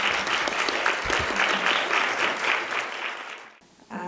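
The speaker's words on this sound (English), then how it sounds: "Give a round of applause." Panel discussion audience applauding in dense, even clapping that drops off abruptly near the end.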